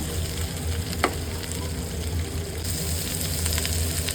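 Goat intestine frying in a pan keeps up a constant dense sizzle, with one sharp click of the utensil early on while it is stirred. No one speaks.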